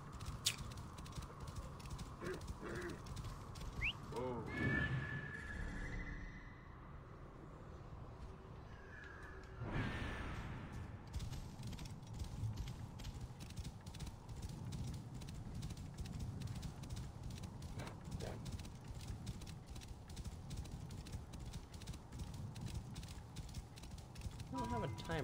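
A horse in Assassin's Creed: Origins clip-clops steadily through the desert, its hoofbeats in an even, continuous trotting rhythm, with crows cawing now and then in the background.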